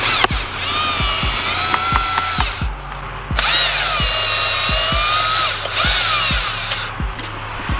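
Power drill driving out the T35 bolts holding a G37 sedan's steering wheel, with near, loud whirring bursts that rise and fall in pitch, stopping briefly between runs, plus a few sharp clicks.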